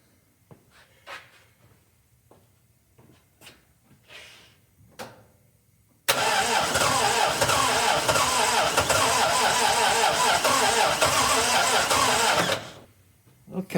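A 1961 Triumph TR3A engine cranks on a newly installed high-torque starter, a loud continuous churning burst lasting about six seconds that comes after scattered knocks and movement noises and then stops abruptly.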